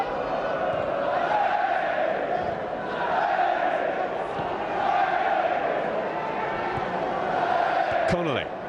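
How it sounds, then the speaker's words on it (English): Reading supporters cheer at a Middlesbrough versus Reading football match, a steady roar of crowd noise swelling and fading in waves across the stadium, with a brief whistle near the end. "Each successful pass cheered by the Reading supporters."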